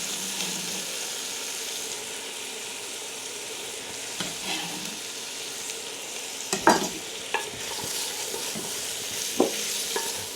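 Onions and garlic frying in a pan for aubergine parmigiana, a steady close sizzle throughout with a few sharper clicks of stirring utensils near the middle and end.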